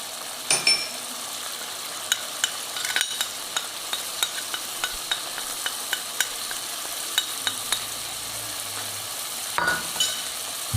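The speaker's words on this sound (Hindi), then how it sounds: "इसको अच्छा सा इतनी देर भूनेंगे कि तेल जो है वो इससे अलग होना शुरू हो जाए" Beef masala with garlic, ginger and chili stir-frying, a steady sizzle under regular sharp clicks and scrapes of a spoon against the pot, close up with no talk.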